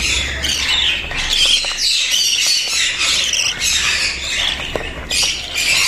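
Budgie chicks squawking nonstop from an opened nest box in a breeding aviary, a dense, loud chorus of harsh, overlapping rasping calls filling the whole stretch with barely a pause.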